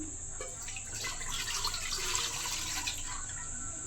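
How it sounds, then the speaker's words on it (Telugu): Milk pours into a pan on the stove for semiya payasam, a steady liquid splash and trickle running throughout at moderate level, with no talk over it. "ఇప్పుడు ఫస్ట్ పాలు వేసుకుందాం."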